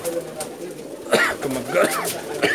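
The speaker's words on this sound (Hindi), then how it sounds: "ये स्पेशल कबूतर उनके मैं दिखा रहा हूँ आपको।" Pigeons from a Pakistani breeder's loft of special birds coo in low, repeated rolling calls, with louder bursts toward the middle and end, close by and mixed with other bird chatter.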